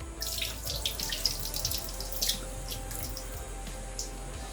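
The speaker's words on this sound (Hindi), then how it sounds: "हाथ तो धोना पड़ेगा" Tap water runs steadily into a sink while hands are washed during home cooking of quick chicken recipes, a continuous close splashing hiss with small drips and no talk.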